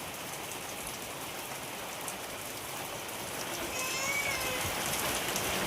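Steady rain falling, a soft even hiss of drops on surfaces that grows slightly heavier toward the end, with no talking.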